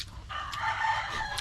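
A rooster crows once nearby, a short, clear cock-a-doodle-doo heard on its own.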